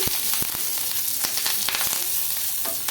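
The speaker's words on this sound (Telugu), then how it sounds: "ఇప్పుడు ఇవి ఘాటు వస్తాయి కాబట్టి కొద్దిగా ఆయిల్ వేసుకొని ఫ్రై చేసుకోవాలి" Spices fry in a little oil in a pan, giving a close, steady sizzle punctuated by sharp crackles and pops as they are stirred, with no talk.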